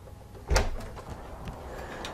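A house door opening onto an outdoor deck gives one sharp thump or latch clunk, followed by faint rustling and outdoor ambience.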